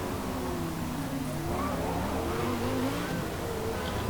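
A mid-engine race car of over 900 horsepower in Forza Motorsport screams down a straight at more than 200 mph, its engine a loud, sustained high-revving drone with shifting pitch.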